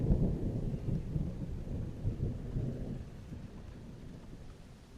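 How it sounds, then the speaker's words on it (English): Winter storm in the Grand Tactician strategy game: a deep rolling thunder rumble with steady rain, loudest at the start and slowly fading, with no voices over it. "Of course, a winter storm develops."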